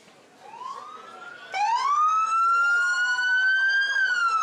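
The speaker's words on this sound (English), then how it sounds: "They love the sirens." A Los Angeles County sheriff's vehicle siren wails loudly and close by at a Fourth of July parade in Santa Clarita, rising and holding a steady high tone. No one speaks.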